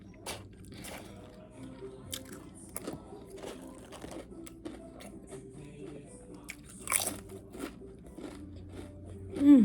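Doritos and Ruffles chips being bitten and crunched up close, a scattered run of crisp snaps and chewing crackles with brief pauses in between, fairly quiet overall with a sharper crunch near the end.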